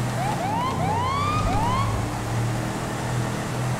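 A police car siren in the video game GTA 5 with the LSPDFR mod: repeated rising wail sweeps over a constant low engine hum, loud and steady, with no speech.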